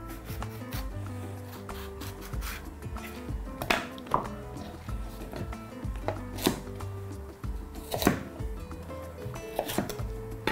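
A knife chops through two sweet peppers on a wooden cutting board. Irregular crisp taps and thuds land close by, with short bursts of quick strokes and occasional louder knocks. Nobody speaks.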